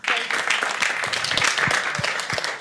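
Conference audience at a Davos panel on brain resilience applauding the panelists, dense steady clapping from a full room, close and continuous for the whole stretch.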